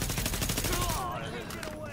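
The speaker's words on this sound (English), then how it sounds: "3 bullets, 3 headshots." Rapid gunfire in Tom Clancy's The Division video game, a quick burst of rattling shots fading into a noisy game soundscape, loud and continuous over the short span.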